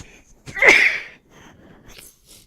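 One sharp, close sneeze bursts out suddenly and fades, followed by faint breathy sniffs in an otherwise quiet room.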